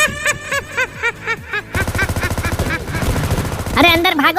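Gunfire in the video game PUBG: rapid automatic bursts and shots crackle through the second half, loud and close, while excited voices talk and laugh over the action.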